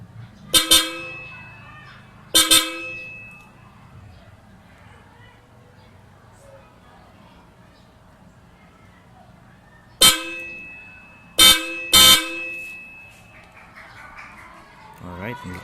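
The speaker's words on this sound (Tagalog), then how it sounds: "ako na lang ang dadakot ng busina" Car horn sounded after a horn relay and 15 amp fuse are installed: five loud, short blasts, two early and three later in quick succession, with a quiet background between them.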